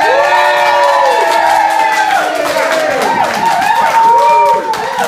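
A large audience cheers, whoops and shouts loudly as a speaker walks onto a stage, many voices rising and falling together over scattered clapping, continuous throughout.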